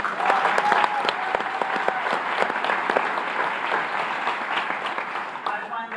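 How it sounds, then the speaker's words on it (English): A graduation ceremony crowd applauds the student speakers with sustained, dense clapping at fairly close range, holding steady throughout with a light murmur of voices underneath. "Give them a round of applause."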